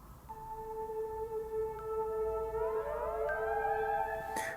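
Low, sliding synth bass tones programmed in GarageBand for iOS for a Star Trek theme, sustained and gliding upward in pitch across several layered notes, steady and moderately loud with no talk.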